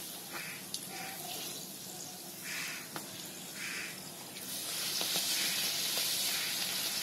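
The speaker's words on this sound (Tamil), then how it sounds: "இப்போ எண்ணெய் நல்லா சூடாயிடுச்சு, இப்போ நம்ம இந்த பூரியை போடலாம்." Poori deep-frying in hot oil gives a steady broadband hiss, swelling louder and denser partway through as the dough goes in, with a few faint clicks and no talking.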